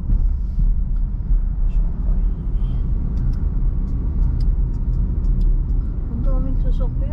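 Steady road rumble from inside a moving car driving through St. Albert, Alberta in spring, with a constant low tire and engine drone and a few faint clicks and squeaks, no talk heard.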